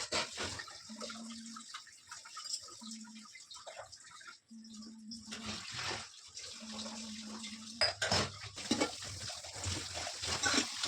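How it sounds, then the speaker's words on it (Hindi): Dishes and utensils being washed in a home kitchen sink, with running tap water and intermittent clinks and splashes at a low, steady level, no talking. "तो चलिए एक बार के तो बर्तन धुल गए हैं"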